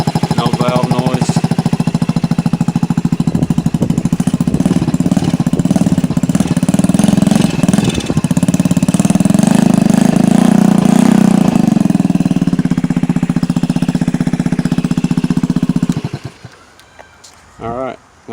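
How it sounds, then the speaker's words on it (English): A Honda Ruckus scooter engine idling after a valve shim change, a loud close rapid-firing putter that runs steadily for about sixteen seconds, then cuts off into near silence. "There we go. Bike is running good."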